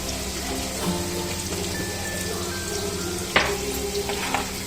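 Onions sauté in a pan for pav bhaji, a steady close sizzle like light rain, broken by a sharp clatter of a spoon against the pan near the end.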